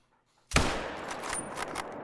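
A rifle fires a single loud shot at a melanistic brown bear in the hunting game theHunter: Call of the Wild. Silence comes before it, and a long rolling echo trails off after the sharp blast.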